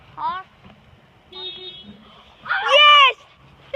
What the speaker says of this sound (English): Honk, please.